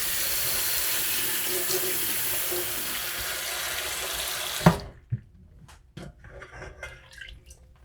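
Cranberries being rinsed under a running kitchen tap, a steady loud gush of water that stops abruptly, followed by scattered drips and light handling clatter.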